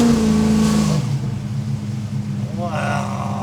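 A 700+ HP HT Holden Kingswood engine revs briefly and loudly, then drops to a rumbling idle before another short rev, heard close up while people talk nearby.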